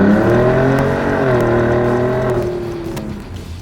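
A car engine fitted with an aftermarket exhaust revs and settles, a throaty harmonic drone that rises slightly then fades toward idle, close and alone without talk.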